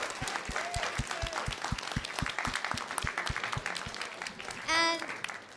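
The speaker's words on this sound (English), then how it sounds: "help me give the warmest round of applause to our panelists for being here today" Audience applause for panelists at a STEAM leadership event, a room of steady clapping with a few louder individual claps and a short whistle near the end.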